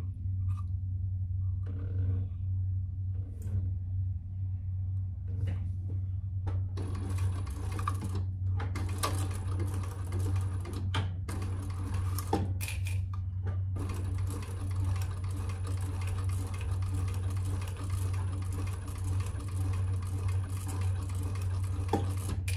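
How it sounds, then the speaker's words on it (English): A Thor sewing machine sews a seam on a Louie waist pack, a steady loud motor drone with rapid needle ticking and scattered sharper clicks throughout. "Sew down this side at the seam allowance in the pattern."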